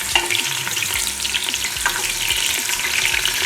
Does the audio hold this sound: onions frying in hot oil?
yes